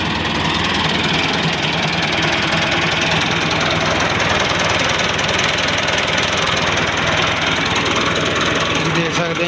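A 2010 Massey Ferguson 375 tractor idles in neutral, its engine giving a steady, loud, close-up rumble with a continuous knocking texture that holds evenly throughout.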